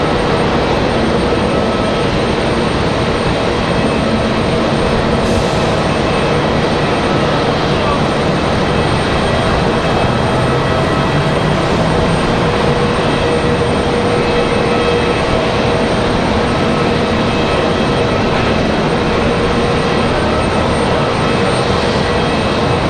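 A Copa Airlines airliner arriving at Raleigh-Durham International in a steady west wind, its engines a loud, continuous broadband roar with wind noise throughout, while a voice talks over it.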